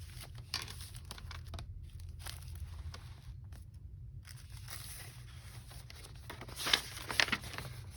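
Tissue paper bound into a handmade junk journal crinkles and rustles as it is handled, with soft intermittent crackles and a louder burst of crumpling near the end.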